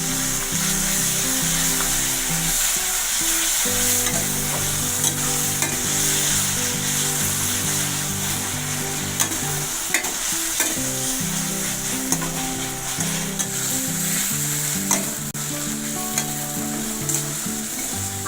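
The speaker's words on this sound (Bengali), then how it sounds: "এবার আদা রসুন বাটাটাকে পেঁয়াজের সাথে ভালোভাবে নাড়ব।" Ginger-garlic paste sizzles with frying onions in a pan while being stirred, a loud steady crackle broken by repeated scraping strokes of a spoon.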